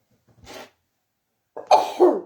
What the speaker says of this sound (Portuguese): Espirra normal, né, gente? Todo mundo espirra na vida.